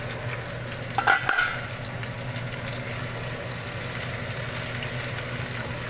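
Squid adobo fries in a pan with a constant close sizzle over a low hum. Near the start comes a short burst of louder spattering pops as the oil splashes.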